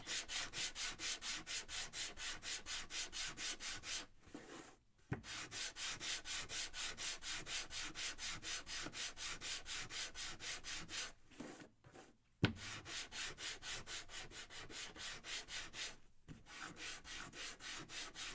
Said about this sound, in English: Let's sand our bucket.